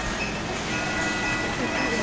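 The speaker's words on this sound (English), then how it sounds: "The train's coming!" Steady rolling rumble of a toy train running along its track, continuous and moderately close, with faint voices murmuring in the background.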